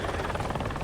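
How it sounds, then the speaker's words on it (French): Water-bombing helicopter flying during a firefighter training exercise, a steady, dense rotor drone filling the whole moment, loud and continuous with no voices. "L'hélicoptère doit aller pomper de l'eau et la larguer pile au-dessus de la lisière des flammes."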